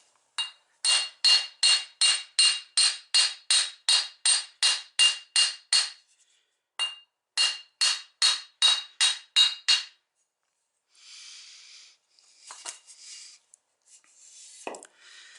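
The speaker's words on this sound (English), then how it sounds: "I could possibly even do this with a hammer." A hammer strikes metal in a fast, even series of sharp, ringing blows while driving out a Grasshopper mower deck spindle bearing, pausing once before another run, then a few scraping clanks.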